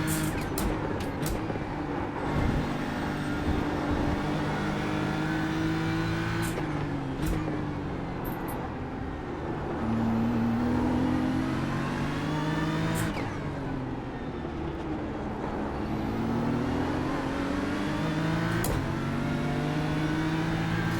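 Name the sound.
racing car engines in a video game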